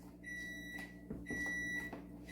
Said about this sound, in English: we'll heat this up now, probably in the microwave